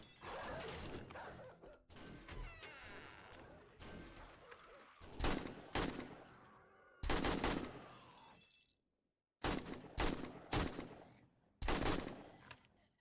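Bursts of gunfire in the survival game 7 Days to Die, with rapid automatic volleys and single shots fired in clusters, separated by short silent gaps, loud and close.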